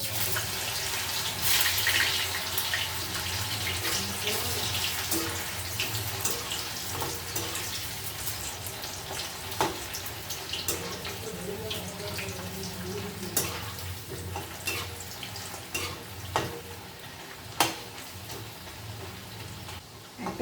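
Raw plantain slices frying in hot oil in a Bengali kitchen, a steady hissing sizzle with scattered pops and crackles, close and moderately quiet throughout.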